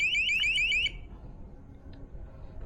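A ghost-hunting trap sensor alarm at Kasteel Batavia emits a rapid, shrill warbling electronic beep for under a second, then cuts off, leaving a quiet room with faint background noise.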